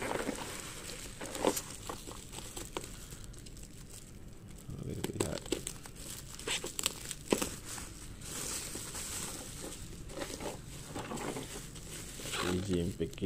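Crinkling plastic packaging being opened on a Micro Cosmos MC-01 Elvis Voltron toy, with repeated close rustles and crackles heard under ongoing talk.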